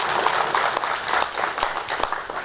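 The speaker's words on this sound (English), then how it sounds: "Let's give him a round of applause." Steady, dense audience applause from a seated crowd at a university research-week dialogue session, sustained and fairly loud throughout with many overlapping claps.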